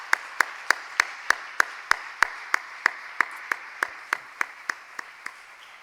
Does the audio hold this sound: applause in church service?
yes